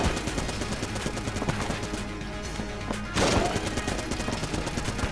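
Rapid, dense gunfire from a gun in the video game Enter the Gungeon, with shots rattling almost continuously and a sharper, louder burst near the end.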